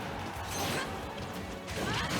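A forward smash landing in Super Smash Bros. Ultimate during a Lucina singles match, a heavy crashing impact with a whooshing swing amid constant arena crowd noise.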